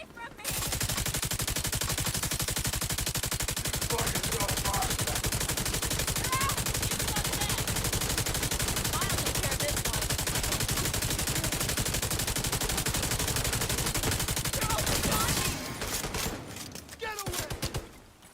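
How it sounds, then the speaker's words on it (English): Sustained rapid gunfire from a survival shooter video game, dense bursts of automatic fire running almost continuously for about fifteen seconds, loud and close, with speech mixed in, then tapering into scattered quieter sounds. "What the hell are you shooting at the bench for, lady?"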